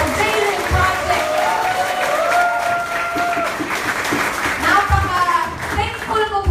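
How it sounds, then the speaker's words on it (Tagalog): Crowd applause and cheering for a performer at a live event, lively clapping mixed with shouts and voices, while a person talks over it. "Palakpakan naman po natin, pinakamalakas na palakpak para sa Jaylin Project!"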